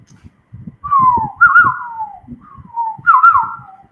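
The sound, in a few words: imitated sweet whistling bird call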